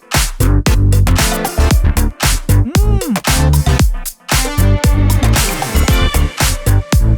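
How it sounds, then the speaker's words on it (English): Short string chops stab rhythmically through a loud pop track, with a brief pitch-bending sweep in the middle over punchy drums and bass, no talking. "Yeah, and I have some string chops."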